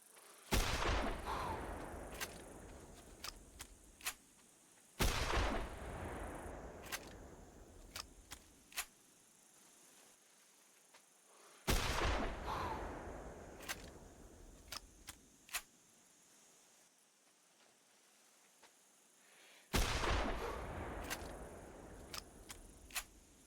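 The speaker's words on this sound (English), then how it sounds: "let's get to a spot here where we can shoot some rabbits" Gunshots from a rabbit hunt in the video game Hunter Classic: four loud, sharp shots spaced several seconds apart, each with a long echoing decay, between stretches of quiet outdoor ambience with faint clicks.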